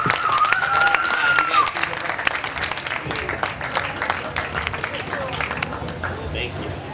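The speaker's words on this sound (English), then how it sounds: "Big round of applause." An audience breaks into applause, dense clapping from a crowd that stays steady and fairly loud throughout. A voice speaks over it near the start, with crowd murmur mixed in.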